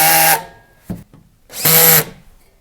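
A power drill drives screws to fix a bracket onto a Vex in-line range hood blower, heard as two loud, close whirring bursts with a brief high tone, separated by a short tap and pause.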